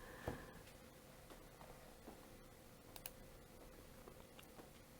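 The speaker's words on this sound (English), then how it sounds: "Excuse my typing." Quiet, irregular clicking of keys being typed, scattered taps at an uneven pace with a faint background hum.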